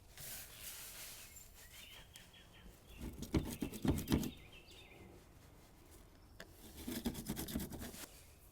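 Salt and coarse ground black pepper rub being stirred together, giving soft gritty scraping and rustling in two louder bursts over a quiet background hiss.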